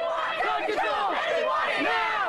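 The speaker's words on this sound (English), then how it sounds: "A large crowd of high school students from a neighboring community taking to the street this morning calling for legislation to curb gun violence." Large crowd of high school students protesting in the street, many voices shouting and chanting together in a loud, continuous roar with rising and falling cries over a couple of seconds.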